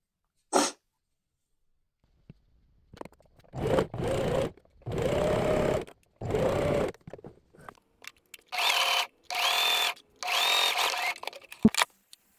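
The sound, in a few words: sewing machine stitching two-piece sleepwear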